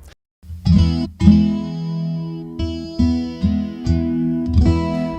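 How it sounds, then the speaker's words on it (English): Acoustic guitar played through an amplifier with a chorus effect, several strummed chords ringing out with a shimmering, doubled sound, each strum loud and then decaying, with no voices. "The chorus control allows you to mimic the sound of multiple guitars."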